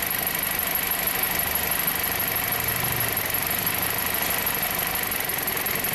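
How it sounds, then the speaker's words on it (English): A Jeep engine idles in a steady, continuous drone with a faint uneven knock from an intermittent misfire, heard close with no talking. "It's misfiring."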